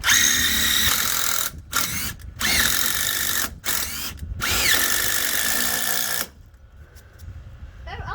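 A power screw gun drives screws into deck boards in several loud, close whirring bursts with short pauses between them, then falls to a quieter tail.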